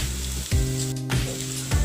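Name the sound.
chopped onion sizzling as it is added to the pan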